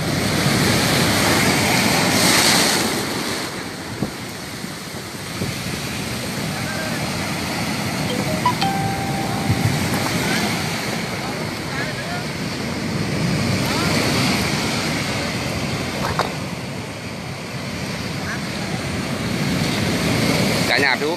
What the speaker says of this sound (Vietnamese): những cái làn sóng có thể cao 2-3 mét đập vào những cái hộ dân san bằng đấy